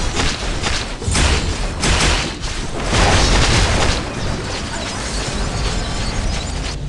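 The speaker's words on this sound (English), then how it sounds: "Your team has destroyed a turret." Turret destruction in the Mobile Legends 5v5 game: a dense, loud stretch of booming impacts and mechanical clatter, thuds and crunching debris layered continuously with no spoken voice.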